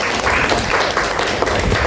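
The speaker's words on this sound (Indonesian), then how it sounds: "Tepuk tangan untuk kelompok 2." A classroom audience in an Indonesian teacher-training session gives a group of presenters steady, dense applause that stays loud and continuous for the whole stretch.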